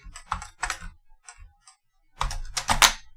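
A computer keyboard typed in quick clattering bursts, with a short near-silent pause in the middle before a denser, louder flurry of keystrokes at the end. No voices.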